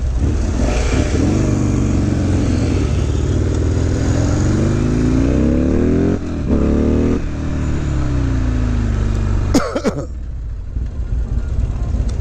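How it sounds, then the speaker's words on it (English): Motorcycle fitted with D&D exhaust pipes revving on the road, a deep throaty rumble climbing through several rising rev sweeps and gear changes, loud and close, with a brief sharp rattle near the end. "D&D did these pipes right. They're not too loud."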